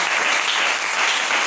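A church congregation applauds steadily throughout, a dense, continuous wash of clapping from many hands filling the room, with no clear voices above it.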